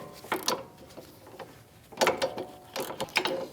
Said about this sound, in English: I'll put my ratchet on it, socket.